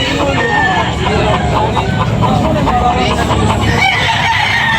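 Roosters crow and cluck amid a busy poultry market in Tabunok, Talisay, Cebu, their calls mixed with crowd babble and nearby conversation throughout.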